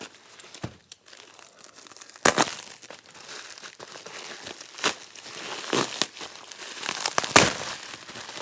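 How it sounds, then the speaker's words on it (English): An express shipping package is torn open with crinkling plastic and paper, irregular sharp rips and rustles up close, spaced across several seconds. "we'll open up the little express package next"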